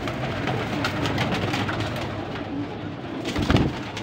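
About fifty pigeons coo softly and repeatedly over a steady background hum, with a louder flutter or knock near the end.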